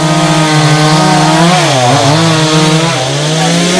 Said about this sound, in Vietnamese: mời quý vị cùng theo dõi xem nhóm ba của Hoa sẽ cưa hạ mấy cái cây này như thế nào nha.